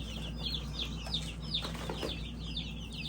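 Newly hatched baby chicks peep in quick, high, repeated chirps over a steady low hum, close by and fairly soft, with no talk.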